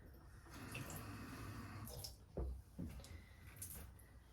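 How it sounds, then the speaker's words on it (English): A makeup brush swirls in a small tray of water for rinsing, soft close sloshing and watery swishes with a couple of light knocks against the tray, quiet and with no talking. "And swirl in the tray to get the soap out and to get all the eyeshadow out."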